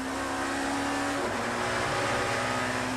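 A BMW touring car in the 1993 British Touring Car Championship brakes hard into the tight Druids right-hander, its loud engine drone shifting pitch midway as it slows, close and continuous with no talk.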